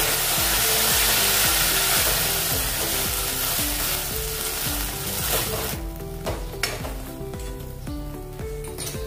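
Ketchup and Schezwan sauce are stirred in a hot pan: a loud, steady sizzle with occasional utensil clinks against the pan, over a steady tonal background.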